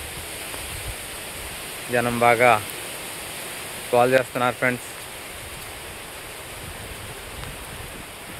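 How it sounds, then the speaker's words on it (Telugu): Steady, even rain hiss pours down over flooded crop fields during a storm, continuing unbroken while someone speaks in two short bursts. "వర్షం కూడా ఆగట్లేదు ఫ్రెండ్స్"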